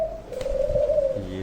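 A dove (fakhta) coos once, a soft, low, sustained call close by over a faint background rumble.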